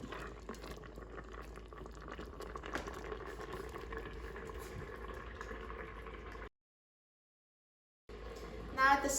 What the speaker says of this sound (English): When the cranberry sauce starts boiling, we need to stir it every minute or two and continue cooking it until it thickens.